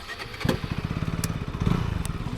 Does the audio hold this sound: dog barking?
no